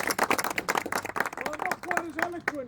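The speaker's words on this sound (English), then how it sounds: "please give a round of applause for Dave Tamner." Audience applause at a blue plaque unveiling outside a pub: a crowd claps steadily in a dense patter, fairly close, with a few voices calling out over it toward the end.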